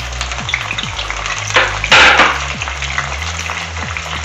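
Finely chopped onion and tomato frying in oil for home-style masala lamb liver, a steady broadband sizzle with a louder burst midway as more goes into the pan, under a low background hum and faint clinks.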